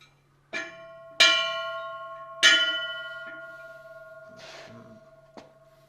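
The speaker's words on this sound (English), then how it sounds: "You can put that down and maybe give the bell a ring." A ship's bell is struck three times, each ring loud and bright with a long metallic decay that overlaps the next, followed by softer taps and a low background hum.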